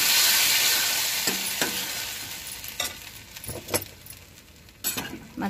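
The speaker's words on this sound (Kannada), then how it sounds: "ಈಗ ನಾನು ಇದಕ್ಕೆ ಒಗ್ಗರಣೆ ಹಾಕ್ತಾ ಇದ್ದೀನಿ." Spices tempering in hot oil for a vegetable melogara, a steady close sizzle with scattered crackles and a few light metallic clinks of a spoon against the pan.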